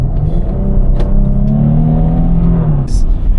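A 2025 Infiniti QX80 SUV engine hums and revs steadily, rising slightly in pitch, with a voice talking over it throughout.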